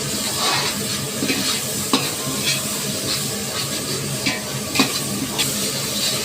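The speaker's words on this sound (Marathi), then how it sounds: "चांगला हलवून घ्यायचं आहे त्याला." A large pot of paneer mutter masala, made for around fifty people, sizzles steadily while a spoon stirs it, with scattered scrapes and clinks over a continuous close frying hiss and no talk.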